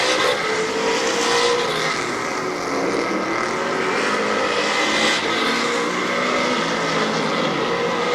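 Street stock race cars roar around the oval at Barberton Raceway Park on the final lap, a dense, steady engine drone staying loud and unbroken throughout with no voices over it.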